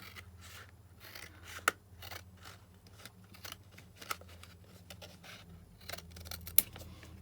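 Scissors snipping paper for an expanding pocket template: quiet, close, repeated cuts in an uneven rhythm, with a few sharper clicks and no speech.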